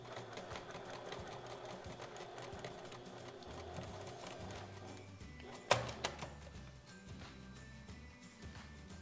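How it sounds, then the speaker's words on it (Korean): Sewing machine topstitching through the outer fabric and lining of a hip sack, a steady mechanical whirr running through most of the stretch with a sharp clack midway. "겉감과 안감을 한꺼번에 꺾으셔서 위에서 한 번 더 눌러서 상침을 해줄게요"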